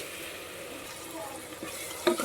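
Potato paneer curry with curry leaves fries in a pan under a steady, hissing sizzle, with a brief stirring clatter near the end.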